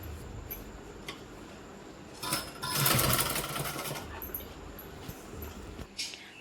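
A sewing machine stitching a sleeve onto a dress, its motor whirring in a steady burst in the middle after scattered light clicks and handling, close by with no talking.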